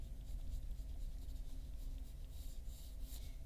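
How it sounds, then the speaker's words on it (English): A pencil scratches across paper while loosely sketching a face, a faint, close, continuous rasp with short strokes and light brushing, steady throughout with no voices. "I'll just show you how I would draw her face in a loose sketch"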